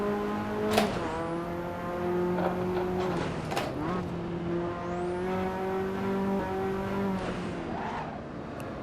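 A car's engine drones and revs in the Assetto Corsa racing game, its steady note climbing in pitch twice as it accelerates, with no voices over it.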